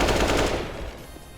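Gunfire in the video game Counter-Strike: a quick rapid burst of sharp shots fading into a short tail, loud and close, with no talking.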